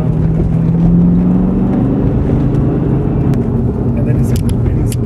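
A BMW E39 M5 pulls in third gear with a loud, steady engine drone whose low tone climbs at first, heard from inside the car with a voice speaking over it.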